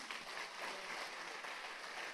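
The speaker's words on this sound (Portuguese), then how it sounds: "Você pode dar mais uma salva de palmas a Jesus?" A congregation at a church service claps steadily in a dense, even burst of applause that sounds moderately distant, with no clear voices over it.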